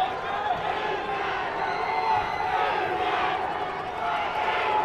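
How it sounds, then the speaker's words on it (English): A loud, boisterous crowd at a night-time high school football championship game between the St. John's Tigers and Elmwood Giants cheers and shouts steadily throughout, a dense, continuous roar with no break. "it's a loud, boisterous crowd"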